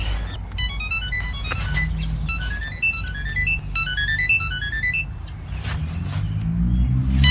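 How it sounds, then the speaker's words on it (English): A Samsung Galaxy SmartTag or Tile Mate tracker tag rings with rapid, repeating high chirping tones in bursts, fairly loud and close, over low outdoor rumble before fading out, out in grass. "Let's hit that ringing button. And I can now hear it."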